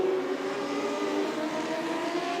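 Modlite race cars at Archerfield Speedway, engines droning steadily as they race together, a continuous buzzing roar from several cars at mid distance with no talk over it.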